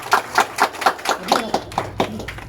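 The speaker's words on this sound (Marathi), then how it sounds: "सर्वांनी टाळ्या वाजवा." Audience at an office inauguration event for a social organisation claps in a loose, rhythmic burst of roughly ten beats, moderately close and steady over the room's background.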